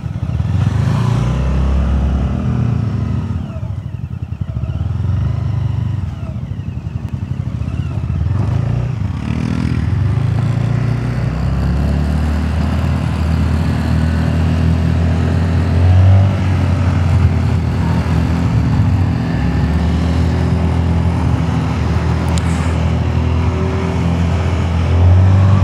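Lambretta G 350 and X 300 SR scooters on a test ride, a steady engine drone with rising and falling revs and road rumble, loud and continuous for the whole stretch, without speech.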